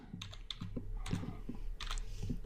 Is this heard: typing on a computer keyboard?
yes